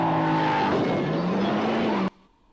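Car skidding in a UK road safety ad about motorcyclists, a loud close tire squeal and engine roar that cuts off abruptly into near silence.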